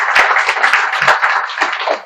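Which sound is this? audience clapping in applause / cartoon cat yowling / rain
audience clapping in applause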